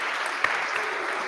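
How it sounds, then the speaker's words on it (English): Brief, steady applause from a talk audience, even clapping with no voices over it. "Round of applause for our melancholy superheroes."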